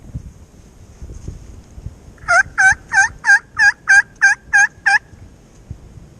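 A wild turkey gobbler gobbles out in the woods, a rapid run of about nine clear, evenly spaced notes over roughly three seconds, with wind noise behind it.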